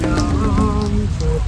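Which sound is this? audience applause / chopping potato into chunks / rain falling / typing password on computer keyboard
rain falling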